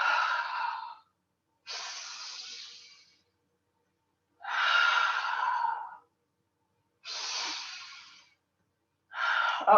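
Slow, deliberate yoga breaths, five long airy inhales and exhales separated by silent pauses, soft and close to the microphone with no talking.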